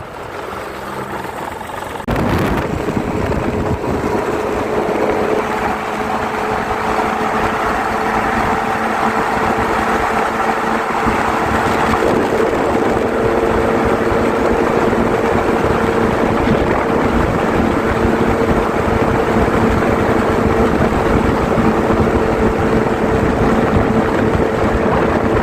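Engines of a group of 35 motorcycles starting out together on an Eid ride rise suddenly into a loud, sustained roar and droning idle that fills the whole stretch, with no talk.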